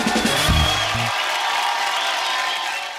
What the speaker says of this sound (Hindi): एक बार शानुदा और समीर साहब के लिए जोरदार तालियां।